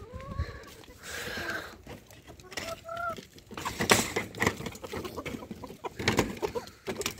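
Hens in a coop cluck in short, scattered bursts at moderate distance, mixed with rustling and shuffling noises and the occasional higher squawk, fairly quiet overall.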